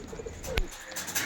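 A female pigeon coos softly among other pigeons, a low burbling call heard close but quiet over a steady background hiss, with no one speaking.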